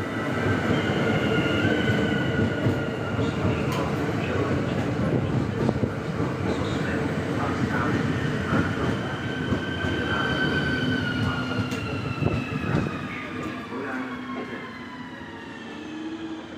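A train arriving at Zvolen station rolls in steadily with a low rumble, high metallic wheel squeals rising and falling throughout, loud and close.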